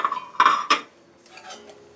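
Lid lifted off a pot of cooked basmati rice, giving a couple of sharp metallic clinks and a ringing clatter, close by, followed by soft quieter handling sounds with no voices.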